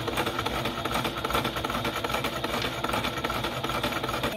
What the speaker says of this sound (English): Now I'm going to sew the two ends, and then later I can put the elastic in there.